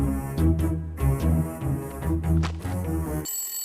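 A phone rings with a melodic ringtone in an indoor scene, the tune playing steadily and loudly with bass-heavy tones before switching to a brighter, high chime near the end.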